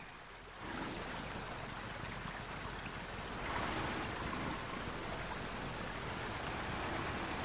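River water rushing past a vehicle in the off-road driving game Mudrunner, on a flooded map. A steady, dense wash of flowing water fills the whole clip, swelling slightly partway through, with no voices.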